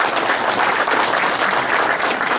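A crowd at a lecture applauds loudly and steadily, a dense wash of clapping with no voices.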